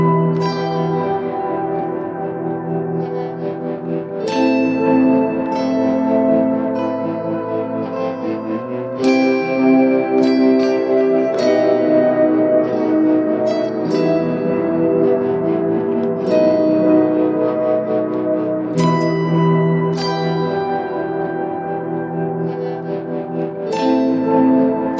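An electric guitar plays a part high up the neck, layered over a looper pedal loop, with bright ringing notes and plucked accents repeating in a steady cycle over a dense, echoing bed of earlier layers.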